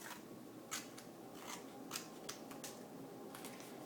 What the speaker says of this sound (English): have to cut the paper